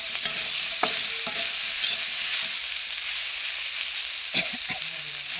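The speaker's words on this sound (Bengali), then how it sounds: "ডিম ভাজা হলো।" An egg fries in a pan with a steady close sizzle and hiss, broken by a few scraping stirs of a spatula.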